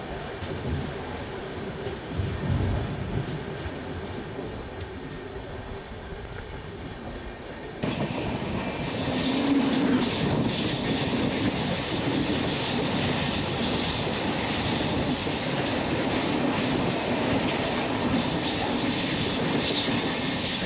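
Kerala Sampark Kranti Express rolling along the rails, a continuous broadband rumble that grows louder and denser partway through, with a faint voice in the background.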